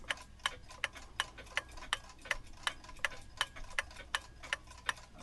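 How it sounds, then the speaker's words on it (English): Steady, even ticking of an antique eight-day mantel clock, close and quiet, with about three evenly spaced ticks each second and no voices. "Yeah, it's got a nice even tick now."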